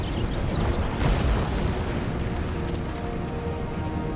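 Continuous rumbling cannon fire from artillery in a Total War: Empire battle with Russian forces, a dense low roar with one stronger boom near the start and no pauses.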